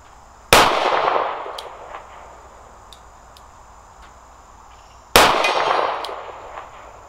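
Two sharp shots from a Smith & Wesson 432 UC revolver at an outdoor range, each followed by a ringing clang off a steel target and a slow decaying ring, spaced about four and a half seconds apart.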